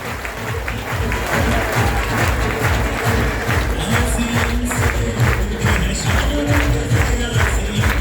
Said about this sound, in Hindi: एक बार जोरदार तालियां इन सभी रॉयल्टी अचीवर साथियों के लिए